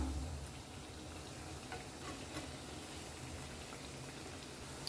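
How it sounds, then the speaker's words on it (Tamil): Donuts frying in hot oil after being flipped, a steady low crackling sizzle with scattered pops that runs evenly throughout, fairly quiet and close. "இப்போ 2 பக்கமும் சூப்பராக ஃப்ரை ஆயிடுச்சு"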